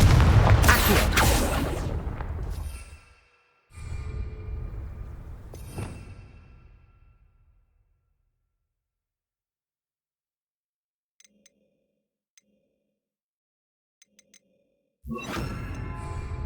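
Spell-casting effects in Hogwarts Legacy, including the Incendio, Depulso and Confringo spells, heard as loud whooshing bursts and booming blasts separated by near-silent gaps, with faint clicks in between.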